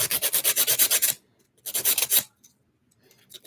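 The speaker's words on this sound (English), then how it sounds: "you kind of know how to just move the file so the nail can shape the way you want it to shape" Quick back-and-forth rasps of a nail file shaping fingernails, a fast burst of about a dozen strokes, a short pause, then a second shorter burst and a couple of faint scrapes, close and clear.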